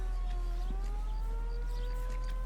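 A wailing ambulance siren in the 1940s Los Angeles world of L.A. Noire, rising and falling steadily over constant low engine rumble for the whole stretch, with no voices.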